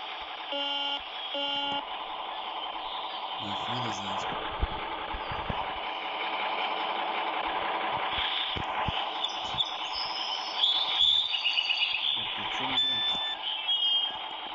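Constant engine drone of an idling bus in a video game, steady and loud throughout, with occasional electronic beeps and tones layered over it.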